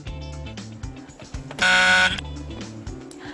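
A loud, flat electronic buzzer blares for about half a second over upbeat background music.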